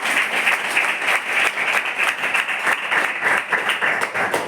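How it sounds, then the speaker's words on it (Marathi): A room of students claps for a girl at a tribal girls' hostel in Amravati, producing steady, dense applause of many hands that carries on throughout at a moderate distance. "टाळ्या वाजवा तिच्यासाठी"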